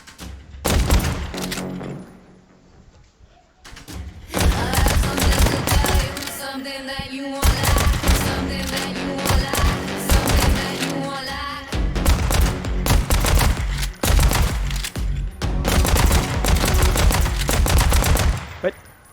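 Gunfire from two guns in the VR game Pistol Whip cracks out in dense rapid bursts over a thumping music track, with a brief lull early on before the volleys resume loud and continuous.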